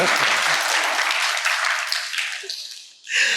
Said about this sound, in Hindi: बिल्कुल सही जवाब है, जोरदार ताली।